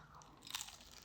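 A single crisp crunch of someone biting into crispy fried sardines, close and fairly quiet, with a short crackle in the middle and no talk.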